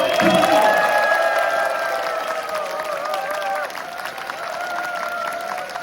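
An audience claps and cheers after a joint cheerleading and music performance at a university homecoming campus event, with sustained crowd noise and bright tonal sounds running over the applause.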